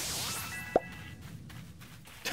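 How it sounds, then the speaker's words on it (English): A sharp popping sound effect from the Pokémon Legends Arceus video game rings out once, short and bright, over a soft game background with faint tones. "I love the, like, pop noise."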